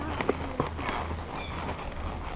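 Horse hooves clip-clop on a trail ride in Hochatown, a few clear hoof strikes up close amid steady outdoor background noise.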